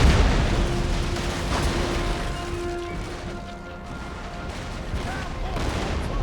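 Grapeshot cannon volley from a warship in the naval battle game Empire Total War: a dense, rumbling roar of booming shots blending into continuous battle noise, with one sharper blast standing out early on.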